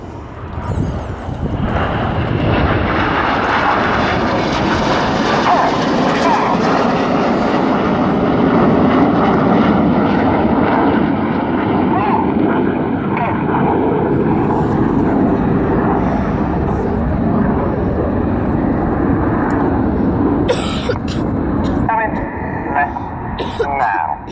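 RAF Red Arrows jets roar through a rollback display manoeuvre at a Yeovilton air day, a loud sustained jet rush that rises and fades as the formation passes, with a commentator talking throughout.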